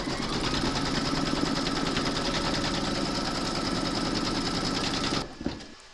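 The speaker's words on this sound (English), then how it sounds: "Then you're going to stitch round number 1, and that's going to give you a placement outline for your batting." An embroidery machine stitches a placement outline for a mermaid and dolphin appliqué, a fast, even, loud mechanical chatter that runs steadily and then stops abruptly near the end.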